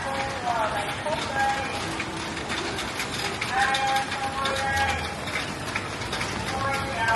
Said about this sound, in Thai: ฝน